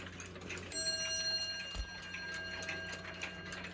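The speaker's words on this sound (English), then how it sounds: "It's an 8-day striking wall clock, and it strikes on a bell." An AMS 8-day wall clock strikes a single ringing note on its bell, the tone sustaining and slowly decaying while quiet ticking and faint handling noises continue underneath.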